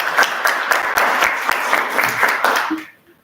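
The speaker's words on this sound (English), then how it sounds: "give her a round of applause" Applause from an audience at a workplace recognition talk, a dense steady patter of many hands clapping for about three seconds before fading out.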